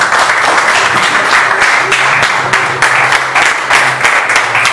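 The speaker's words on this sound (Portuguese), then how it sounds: "Dá uma salva de palmas para essa igreja." A church congregation claps together during a service, loud and close, with dense applause that surges in rhythmic waves for the whole stretch.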